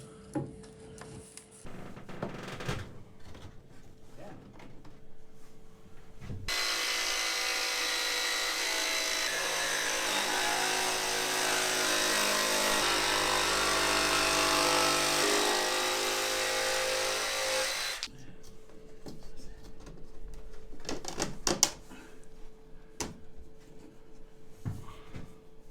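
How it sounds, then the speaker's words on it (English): A power drill bores holes through a Sealine SC35 boat for demister pipes, a steady grinding whir lasting about ten seconds, with quieter handling knocks before and after. "So we've pulled our demister pipes through, so we just drilled holes through."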